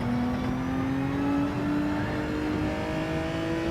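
A race car engine in Gran Turismo 7 runs under steady throttle, a continuous droning whine that slowly rises in pitch, close and alone with no talk.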